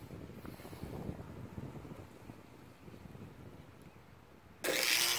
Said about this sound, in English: The wind is strong wind right now.